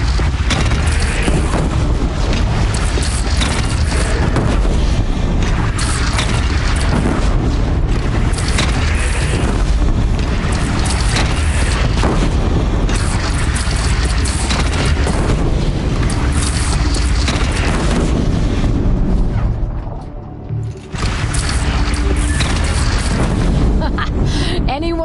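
Cannon fire from a bandit clan's single cannon during a battle in Horizon Zero Dawn on PS4, heavy booming blasts layered in continuous loud combat noise with a brief drop near the end.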